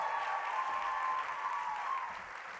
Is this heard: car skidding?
no